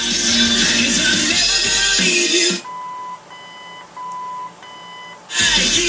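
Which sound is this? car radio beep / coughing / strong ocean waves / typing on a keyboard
car radio beep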